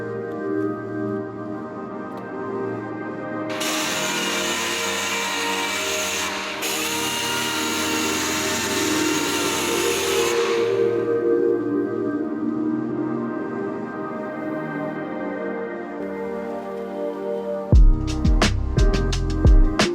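Power sander working a Honda Civic Type R fender to flatten orange peel, a steady whirring drone broken by a louder high-pitched stretch in the middle, ending in a few sharp clunks.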